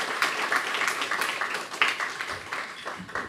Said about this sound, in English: Maybe we can clap for Pierre-Louis.